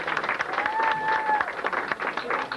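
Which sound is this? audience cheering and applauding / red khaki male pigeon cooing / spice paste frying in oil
audience cheering and applauding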